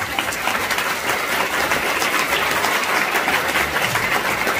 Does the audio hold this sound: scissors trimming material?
no